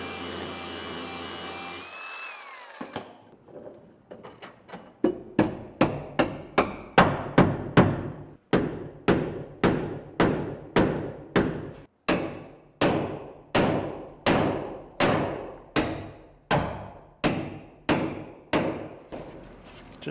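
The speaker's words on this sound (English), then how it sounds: "Just took a bigger hammer." Heavy hammer blows strike metal in a steady series of about two dozen sharp, loud impacts, each ringing briefly before the next, with a short burst of other noise at the start and no talk.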